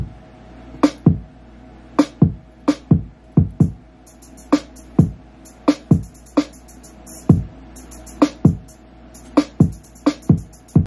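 A second lo-fi hip hop drum loop from GarageBand Live Loops on iPad, a laid-back pattern of punchy kicks and snares joined by light, crisp hi-hat ticks, repeating steadily and close with no talking.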